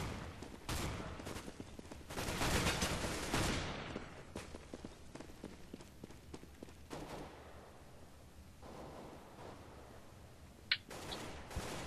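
Rapid close gunfire from Counter-Strike: Global Offensive in casual mode, including shotgun blasts, bursts dense and loud for the first few seconds, then thins into scattered shots, footsteps and clatter, with one sharp distant report near the end.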